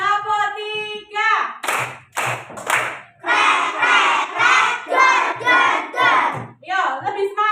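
A group of children performs a rhythmic clapping chant in a classroom: bursts of shouted chanting alternate with sharp, close claps in a steady counted pattern.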